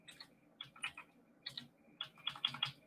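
Quick bursts of typing on a computer keyboard, clusters of light key clicks in an uneven rhythm, close and fairly quiet with no talk.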